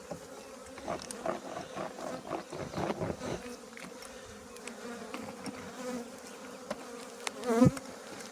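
Honeybees buzz around an apiary hive during early spring work, a steady close swarm drone with individual bees zipping past the microphone, one passing very near near the end, and no voices.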